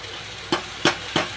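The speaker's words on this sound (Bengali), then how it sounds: "এবার আমি সব মশলাটা একসাথে দিয়ে দেবো, দিয়ে হালকা একটু নেড়ে চেড়ে নেব।" Spices and yogurt frying for a mutton curry, a soft continuous sizzle with three quick spoon scrapes against the pan, evenly spaced and close.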